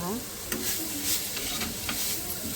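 Guava leaves sautéing in hot oil in a pan, a dense continuous sizzle with a few soft stirring scrapes, fairly close, with no talking.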